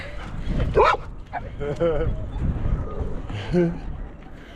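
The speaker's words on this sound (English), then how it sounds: "The dogs here sound slightly scary, but they don't do anything. They just bark." Dogs bark and yip a few times at moderate distance in Sinaloa, Mexico, below a highway, mixed in with people talking and outdoor background noise.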